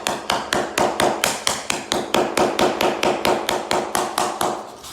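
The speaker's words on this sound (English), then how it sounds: "these are pretty tough, so you can hit them with a hammer" A hammer taps panels into place in a fast, even rhythm of about twenty sharp, close knocks, each blow ringing briefly before the next, with no voices.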